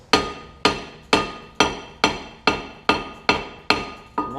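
Nine sharp, evenly spaced metal-on-metal hammer blows strike a bit lodged in a Honda Fit brake rotor screw, each loud ringing clang decaying quickly before the next, with no talking.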